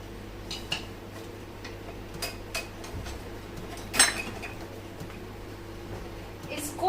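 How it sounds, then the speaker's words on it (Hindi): A spoon stirs a homemade natural colour mixture in a pan, giving sparse light clinks and scrapes against the metal over a steady low hum, with one louder knock near the middle. "इसको लगातार हिलाते रहना है ताकि ये पैन के बॉटम पे स्टिक ना हो जाए।"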